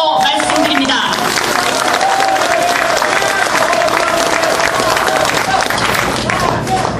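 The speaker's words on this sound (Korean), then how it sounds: "송영길 시장에게 힘찬 박수 한번 쳐드리자고 말씀드립니다" A large audience claps for a city mayor at a Democratic United Party leadership rally in Incheon: dense, steady applause fills the whole stretch at close, loud level, with crowd voices mixed in.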